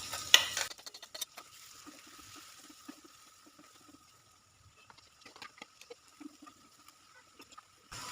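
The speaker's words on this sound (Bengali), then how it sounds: "পেস্ট করে রাখা লঙ্কাটা আমি দিয়ে দিচ্ছি।" Chilli paste is added to a pan with frying garlic and ginger, giving a brief loud splash and sizzle at the start, then soft scattered stirring and sputtering.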